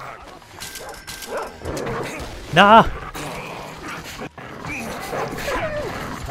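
Dog in Metro Exodus gives a single short bark over gunfire and combat noise while someone talks.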